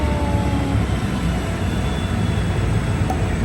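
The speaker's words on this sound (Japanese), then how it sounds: "これ速いやつ、特急列車かな。" An express train pulls into a Stockholm station with a steady loud roar and rumble of wheels, a faint high whine running through it, and no talk.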